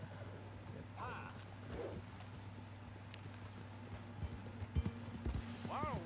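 Horse hooves clip-clop at a walking pace in Red Dead Redemption 2, a steady soft rhythm under a low ambient hum, with a brief whinny and someone talking over it.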